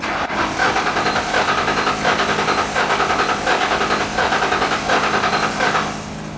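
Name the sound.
old Ford Mustang GT engine being started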